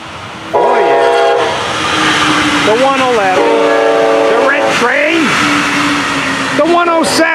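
A train rumbles past at close range while its horn blows in several long, loud blasts, the engine roar steady underneath.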